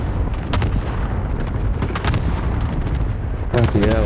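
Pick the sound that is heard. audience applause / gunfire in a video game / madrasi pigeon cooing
gunfire in a video game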